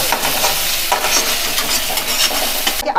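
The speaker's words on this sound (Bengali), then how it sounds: "ডালটাকে ভালো করে তেলের মধ্যে ভেজে নেব।" Red lentils frying in oil in a pan, a steady, loud sizzle with continuous stirring scrapes throughout, alone with no talk.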